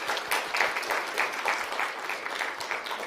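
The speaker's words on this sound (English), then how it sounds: "Big round of applause." Applause from the crowd at the LoRaWAN Live Tokyo keynote, steady dense clapping with a rippling rhythm, moderately loud and unbroken by speech.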